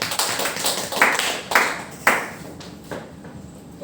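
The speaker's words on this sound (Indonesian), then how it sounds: "Beri tepuk tangan." Classmates in a teaching session clap, giving a few scattered, sharp claps at roughly regular intervals that fade out toward the end.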